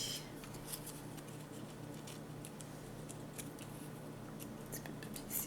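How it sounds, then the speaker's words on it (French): Repeated snipping and slicing of paper on a paper trimmer, soft crisp cuts at close range over a steady low hum, with no voices. "je m'enligne sur mes lignes de ma planche à couper et je vais couper d'un côté à l'autre"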